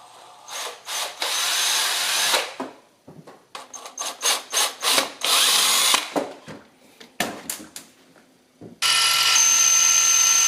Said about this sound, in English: So I'm gonna guess again and drill one right here.